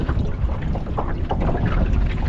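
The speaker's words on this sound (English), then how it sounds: "we're just motoring over to the far side of the lake to start with" A small fishing boat motoring across Cefni Reservoir on Anglesey, a steady low engine rumble and water wash mixed with gusting wind buffeting the microphone, continuous and close.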